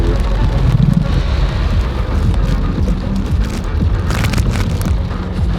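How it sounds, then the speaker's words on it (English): Rain falls steadily outside, a loud, dense hiss of drops pattering on surfaces, with a low rumble beneath and occasional sharper splashes throughout. "It's raining out here."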